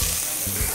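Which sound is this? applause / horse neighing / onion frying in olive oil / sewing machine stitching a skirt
onion frying in olive oil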